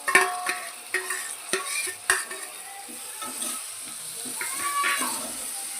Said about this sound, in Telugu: ఇప్పుడు టమాటాలు వేసుకుంటాను. కలుపులోనే వేస్తాం